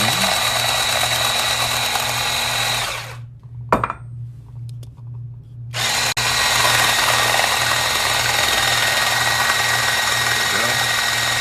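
Blender whirring loud and steady while oil is poured in for homemade mayonnaise, cutting out for a few seconds with faint clinks before starting again at full speed.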